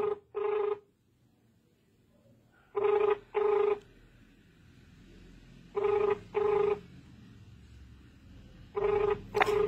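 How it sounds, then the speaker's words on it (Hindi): A telephone ringback tone repeats in four evenly spaced double bursts, clear and steady, with quiet gaps between them and no talking. "उनको इन्होंने फोन किया घंटी जा रही है"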